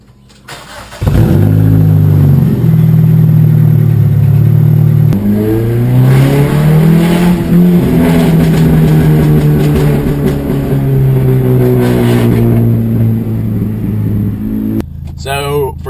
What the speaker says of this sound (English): let's get a quick cold start